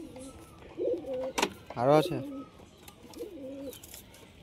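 Giribaz pigeons coo in short low phrases at a home loft, close by, with a sharp flutter or knock between them while people talk nearby.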